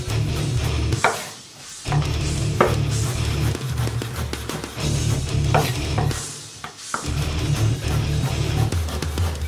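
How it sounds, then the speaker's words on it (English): A knife cutting a pear into thin slices on a board, repeated close chopping taps in short bursts with brief pauses between them, fairly loud with no talking. "And then I'm just gonna cut it into thin slices, just like that."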